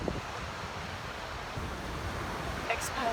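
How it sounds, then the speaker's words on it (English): Sea waves and wind on a rocky shore make a constant, fairly faint broadband wash of surf and gusting air, with no distinct breaks. "The noise you hear in the background is the actual sea."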